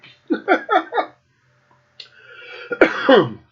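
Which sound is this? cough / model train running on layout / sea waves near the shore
cough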